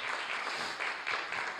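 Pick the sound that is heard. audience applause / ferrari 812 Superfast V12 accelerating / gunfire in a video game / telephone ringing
audience applause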